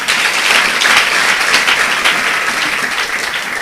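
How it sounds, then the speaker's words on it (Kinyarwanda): A church gathering's audience claps for God in sustained dense applause, loud and continuous throughout, with no clear talking over it. "Yeme dukomere Imana amashyi."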